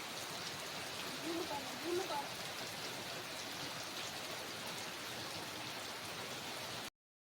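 Soft, steady rain patters on a surface, with faint voices murmuring briefly in the background.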